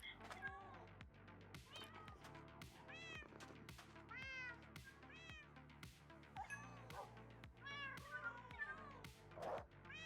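A cat meows over and over in a video game, each meow rising and falling clearly above a steady, pulsing rhythmic backdrop that runs throughout.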